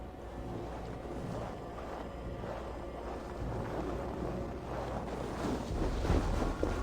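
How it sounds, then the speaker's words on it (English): Stormy wind and rolling waves at sea in the Assassin's Creed video game, a steady, dense roar of gusts and water that swells louder toward the end, with no voices. "Windy."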